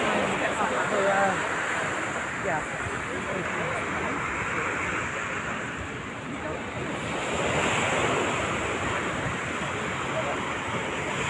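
Waves break on the surf beach at Playa Carrizalillo as a continuous roaring wash with wind buffeting the microphone, heard under faint voices in the background.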